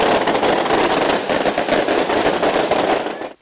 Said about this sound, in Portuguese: O Papai Noel é recebido com neve e fogos de artifício.